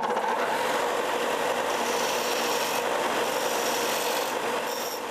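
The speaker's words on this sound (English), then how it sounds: "I'm gonna clean up the grind marks from that grind wheel on this belt." A belt grinder smooths grind marks on a metal fishing jig, giving a steady, loud, close abrasive rasp that runs continuously without pause and with no talking.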